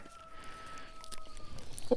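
Hens in a farmyard cluck softly at a distance over low background noise, with a brief sharper call near the end.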